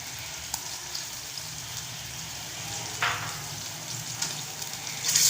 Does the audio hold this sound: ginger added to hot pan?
yes